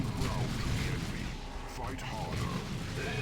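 Bolt pistol fire and Doom Bolt blasts in a Dawn of War 2: Retribution battle, dense booms and shots under a busy mix with a voice talking over them.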